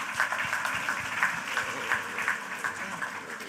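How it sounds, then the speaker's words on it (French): Crowd applause at the opening of Independence Tech Day for the CDC Informatique team, a continuous bed of clapping with individual claps standing out, moderately loud and unbroken. "on peut les applaudir"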